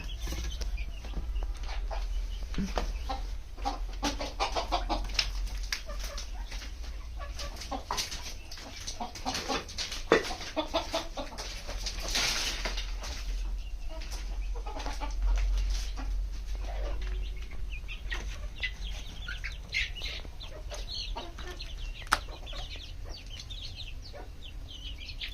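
Hens cluck and murmur steadily throughout, several birds close by, with occasional louder squawks over a low constant background hum.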